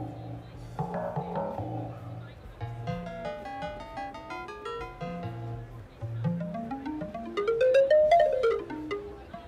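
Chromaphone software synthesizer playing a sequence of tuned, bell-like modeled-object tones whose timbre shifts from phrase to phrase, with melodic notes rising and falling steadily, moderately loud and with no voices.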